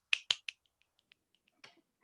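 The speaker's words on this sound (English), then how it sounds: "snap your fingers." Finger snaps during a children's circle-time song: three sharp, close snaps in quick succession, followed by several much fainter, scattered snaps.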